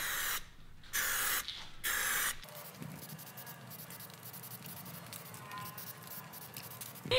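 A spray gun lays down a second wet coat of paint, three loud bursts of hissing spray with short gaps between them, then a quieter, steady background of soft hiss and shop noise.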